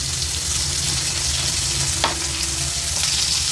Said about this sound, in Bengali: কুমড়াগুলো আমি হালকা করে ভেজে নেব